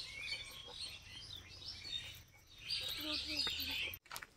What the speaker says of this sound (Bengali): পাখির কিচির মিচির শব্দ সেই লাগছে শুনতে